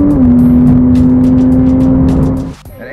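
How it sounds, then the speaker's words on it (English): Loud, close engine and exhaust note of a Porsche Cayman R holding a sustained high rev with a steady whine, then dropping away near the end. "Just listen to that exhaust sound"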